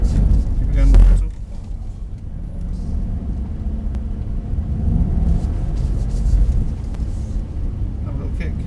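A Mercedes-AMG SL63 pulls hard around a race track, its engine a steady, loud rumbling drone with a sharp surge at the start, while an instructor talks over it.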